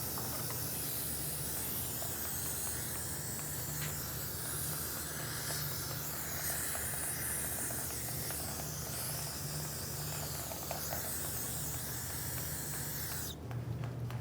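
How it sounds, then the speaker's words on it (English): Aerosol brake parts cleaner sprays steadily onto a RAV4 parking brake backing plate, a continuous close hiss that runs almost unbroken throughout with a brief shift near the end. "Just get a little brake parts cleaner, clean it up"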